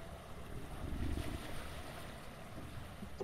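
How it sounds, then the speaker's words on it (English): A waterfall in the video game Lethal Company rushes as a steady, broad wash of water noise, fairly quiet and continuous with a slight swell in the middle, with no voices. "It's beautiful, isn't it? The waterfall?"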